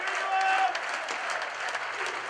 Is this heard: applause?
yes